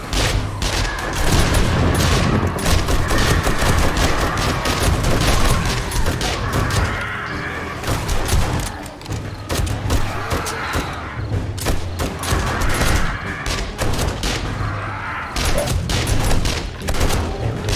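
Dense gunfire from the survival video game 7 Days to Die during a blood moon horde night, loud rapid shots and booms overlapping nonstop, with brief dips in intensity.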